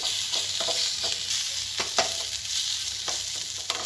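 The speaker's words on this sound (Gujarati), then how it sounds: "લીમડાના પત્તા જે છે એ ઝીણા ઝીણા કાપી નાખ્યા છે એ અંદર ઉમેરી દઈશું અને એને 1 મિનિટ માટે સાંતળી દઈશું" Chopped curry leaves sautéing in hot oil for Gujarati bataka vada, a steady sizzle with occasional stirring scrapes and pops, close and alone.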